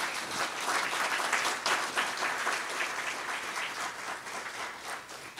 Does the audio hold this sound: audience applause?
yes